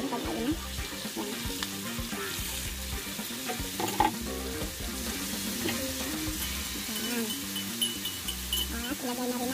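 Chicken estofado sizzles and fries in a pan while being stirred as sauce is added, a steady crackle with scraping stir strokes, and a voice talks over the cooking.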